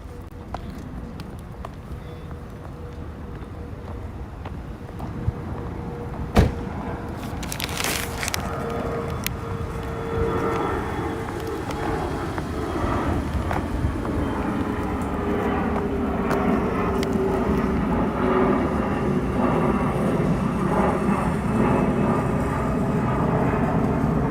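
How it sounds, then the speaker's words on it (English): A fixed-wing airplane drones overhead through the whole stretch, its broad engine roar swelling steadily louder toward the end, with one brief sharp knock partway through and no talk. "Oh my God, plane."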